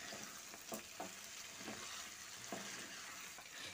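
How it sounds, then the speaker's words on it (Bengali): Egg and potato curry with salt and fried onions stirred in a hot pan, a soft steady sizzle with a few scraping strokes of the spoon spaced about half a second apart, quiet and close. "নুন ও পেঁয়াজ বেরেস্তাটা দিয়ে ডিম আলুর সঙ্গে আরও একবার ভালো করে মিশিয়ে নিচ্ছি।"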